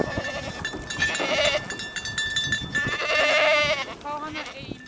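Icelandic settlement-breed goats bleat repeatedly on a farm, several wavering, nasal calls overlapping one another at close range, some long and some short, with a voice speaking in between.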